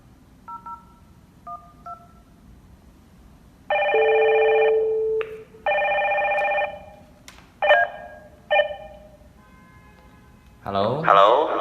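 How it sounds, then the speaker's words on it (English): A 4G SIP video intercom phone dials out with a short run of DTMF keypad tones, then gives repeated loud ringback tones in long steady bursts, followed by shorter rings and a clatter at the end; no one speaks. "Then I will dial from the video phone."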